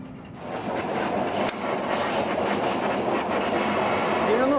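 A passenger train rolling along the rails in a steady, loud rumble with rattling wagons and a brief screech near the end, continuing without a break.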